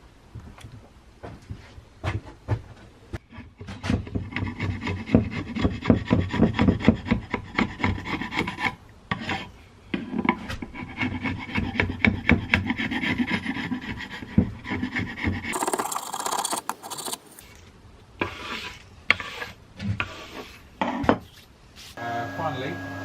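Hand sanding of an end-grain yew branch chopping board gives rhythmic, close rasping strokes, fast back-and-forth scrubbing with brief pauses and a few knocks, alone without talk.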